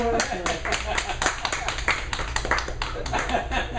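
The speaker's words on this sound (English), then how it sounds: "All right, a round of applause for Thom." An open mic audience at Freddie's Place applauds a performer with a quick, moderately dense run of claps over a low steady hum, while voices murmur underneath.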